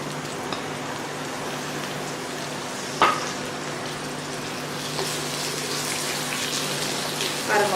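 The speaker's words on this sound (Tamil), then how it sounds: "நல்ல வெங்காயம் கோல்டன் ப்ரௌனாக வதங்கணும்." Onions frying in oil in a small iron kadai, a steady soft crackling sizzle throughout, with a brief clatter of stirring near the middle and again at the end.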